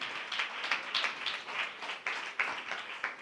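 A church congregation claps hands together in steady, dense applause, heard somewhat distant and moderately soft, sustained for a few seconds with no talk over it.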